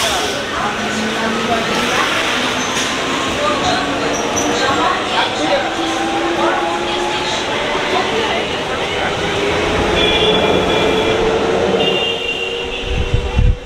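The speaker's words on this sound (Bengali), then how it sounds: "হাওড়া থেকে কাটোয়া লোকাল আছে, সেই লোকালে যাব আমি নবদ্বীপে।" A Howrah–Katwa local train running, giving a steady rumbling roar with rattling and screeching tones throughout, heard from inside the carriage with faint voices in the background.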